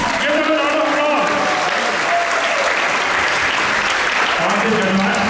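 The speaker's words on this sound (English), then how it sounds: "Give them a round of applause." Temple audience at a Janmashtami Hare Krishna kirtan gathering applauding the kirtan team, loud sustained clapping throughout with faint tonal lingering sound beneath.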